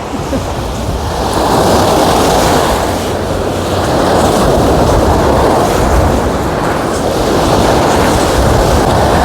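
Loud, steady seaside wind at Kryzhanivka buffets the microphone in broad roaring gusts, with a surf-like wash underneath, continuous for the whole stretch.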